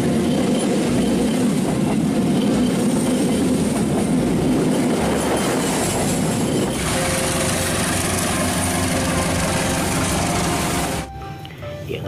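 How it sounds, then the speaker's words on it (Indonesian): Freight train with cargo wagons rolling past on the rails, a loud, steady rumble and rhythmic clatter that carries on close by before dropping away abruptly near the end. "Gerbong kargo teman-teman, mantap."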